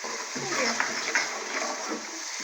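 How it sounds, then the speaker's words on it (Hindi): Water is poured into cooking masala in a pan for a ridge gourd curry, giving a brief hissing splash and sizzle over a steady background hiss. "अब थोड़ा सा इसमें मैं पानी ऐड करूँगी।"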